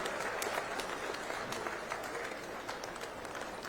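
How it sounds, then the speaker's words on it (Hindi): Sustained applause from an audience at a Chhattisgarh government event welcoming a guest speaker, a dense bed of many hands clapping at moderate distance, steady throughout with scattered sharper claps standing out. "जोरदार तालियां"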